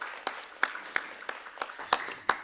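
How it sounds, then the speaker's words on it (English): Sparse, scattered clapping from delegates at a formal committee session, a handful of distinct claps over a soft background of applause, moderately quiet. "now a round of applause to Ms. Awatef"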